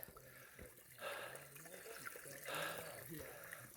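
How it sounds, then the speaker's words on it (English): Shallow creek water flowing over rocks along the Appalachian Trail, a steady close rushing and trickling wash that swells in two brief surges, with a faint voice underneath. "Actually, I think we're walking in a creek right now"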